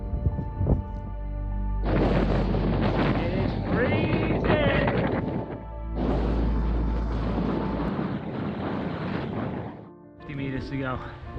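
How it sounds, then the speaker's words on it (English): Strong gusting wind buffets the microphone during a bicycle climb about 400 meters up in far northern Norway, roaring loud in long surges with brief lulls. "Strong dancing wind."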